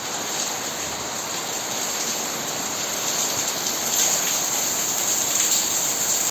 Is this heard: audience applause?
no